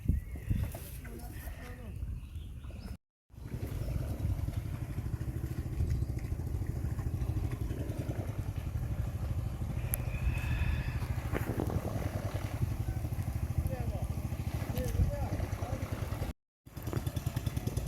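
A boat engine runs continuously as the boat is moved into position at a fish-cage repair site, a steady, fairly loud low drone with faint background voices now and then.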